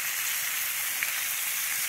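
Bangda mackerel frying in a pan with kokum juice for a Konkani fry, a soft, steady sizzle heard close up, with one brief small crackle midway as the fish is turned.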